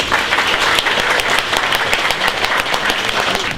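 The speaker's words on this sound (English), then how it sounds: "Can we have a round of applause for them?" An audience at a Hack Jr 2017 youth hackathon show-and-tell claps steadily. The applause is loud, dense and sustained from many people, with no voices heard over it.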